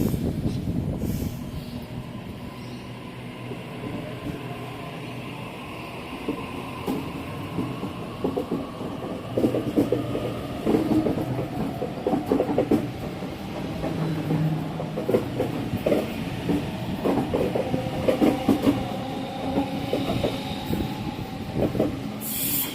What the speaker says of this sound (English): Waratah Series 1 Set A6 is now departing for a Hornsby service.